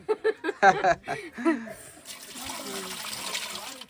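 Water poured into a large pot in a tribal village kitchen, starting with a few splashy glugs, then settling into a steady, fairly close rushing fill; no talking.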